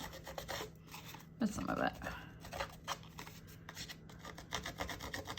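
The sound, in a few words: roughing paper edges with an edge distressing tool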